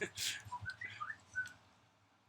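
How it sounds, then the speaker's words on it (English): A person whistles a short, quiet melodic phrase of rising and falling notes, close but faint, with a brief breathy onset and near silence trailing off afterward. "Hear my whistle."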